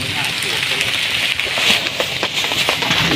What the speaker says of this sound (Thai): เสียงโปแปะโปแปะนี่คือ ฝนตกนะ